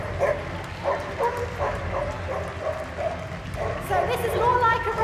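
Dogs bark and yip repeatedly during a Trailrunners display race at Crufts 2016, over a busy arena with an announcer talking throughout.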